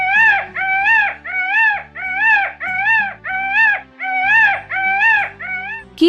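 A peacock gives a loud, close series of about ten wailing, rising-and-falling cries in a regular rhythm, each drawn out and plaintive, with low background hum between calls.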